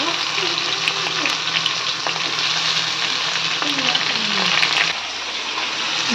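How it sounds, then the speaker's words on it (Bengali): Tomatoes go into a pan of frying potatoes, a loud, dense, steady sizzle and crackle close by that carries on for several seconds, with light stirring scrapes and a short dip in intensity near the end. "আলু ভাজা হয়ে গেছে, এবার দিয়ে দেবো টমেটো"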